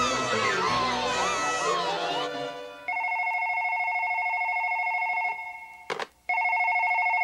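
A telephone rings loudly in steady repeated bursts after a noisy stretch of crowd chatter and voices, with a brief clatter interrupting before the ringing resumes.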